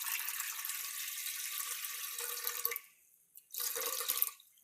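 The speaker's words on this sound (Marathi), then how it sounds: "मी इडली पात्रामध्ये अर्ध पाणी घालून घेत आहे" Water is poured from a tap into an idli steamer pot, a steady close splashing stream that stops abruptly, pauses in near silence, then gushes again briefly before fading.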